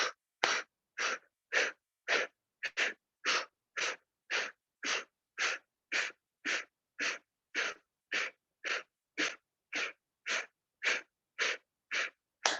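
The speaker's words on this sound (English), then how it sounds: "And out of the mouth, begin. Exhale, exhale, pump your belly." Forceful breath-of-fire exhales through the mouth in yoga breathing, about two dozen sharp, evenly spaced bursts of breath in a quick steady rhythm, close and alone with short silent gaps between.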